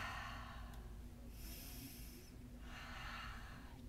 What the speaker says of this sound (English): So I take a couple of breaths.